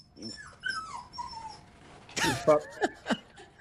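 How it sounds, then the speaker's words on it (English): A dog whimpers close by in a quiet room, a series of thin high whines followed by a louder burst of yelping cries and short squeals near the end. "Sorry, that was my dog."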